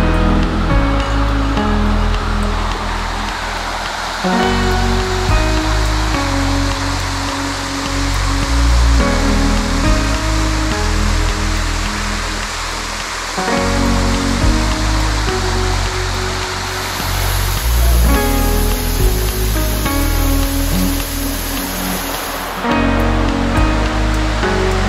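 Cachoeira da Judeia, an Amazon waterfall near Presidente Figueiredo in Brazil, pours in a steady, loud, close rushing roar of water that fills the scene throughout, with no voices.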